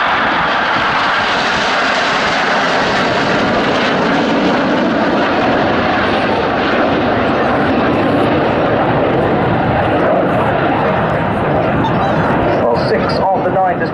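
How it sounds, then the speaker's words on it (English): An RAF Panavia Tornado bomber jet passes at an airshow with a continuous loud, broad roar that holds for the whole stretch, while a commentator speaks over the public address. "Celebrating the Tornado Bomber Force, in from the right, this is Tornado."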